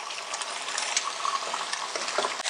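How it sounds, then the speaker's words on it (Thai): Egg with garlic scrambling in a frying pan for fried rice with snakeskin gourami, a steady close sizzle and frying hiss with scraping and stirring clicks throughout. "ทีนี้ยีไข่ให้พอสุกค่ะ"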